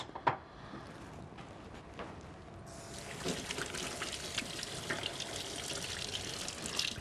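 Tap water runs in a kitchen while hands are washed, starting quietly and swelling into a steady splashing flow under faint handling clatter.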